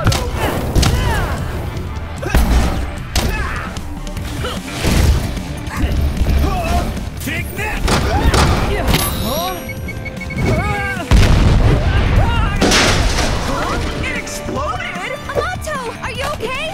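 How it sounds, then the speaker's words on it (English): Explosion of a cartoon ball in an animated series game: loud booming crashes and thuds burst repeatedly over dense music and sound effects, with voices talking throughout. "It exploded? That was the Sepakasa ball! If it touches the ground, it'll explode!"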